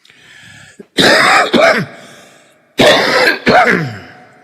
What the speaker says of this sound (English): God, I hope this cough stops in another day or two,